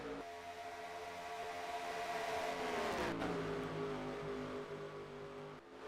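Race cars roar past on an oval track in a NASCAR-style sim racing game at Texas Motor Speedway, a steady engine drone with a swelling pass and a sharp whoosh near the end, no talk.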